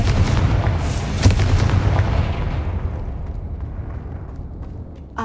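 A Confringo blasting spell in Hogwarts Legacy, a loud booming explosion with a sharp crack near the start, then a long rumbling decay that fades toward quiet.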